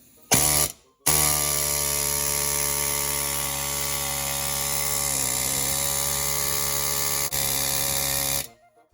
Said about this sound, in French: And we just put the zip gun in there.